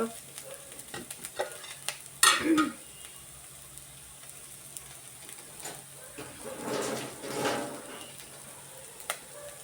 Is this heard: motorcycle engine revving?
no